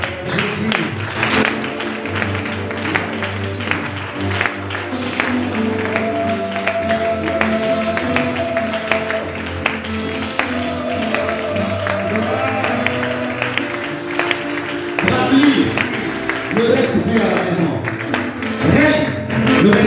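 A church congregation claps and acclaims during a Sunday worship service, a steady wash of hand claps running the whole time under loud singing and music.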